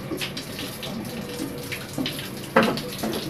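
Running shower water from a home shower heater, a steady hissing spray that continues throughout, close by, with a brief louder splash near the end.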